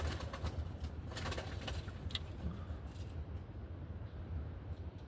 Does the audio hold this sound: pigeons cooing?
yes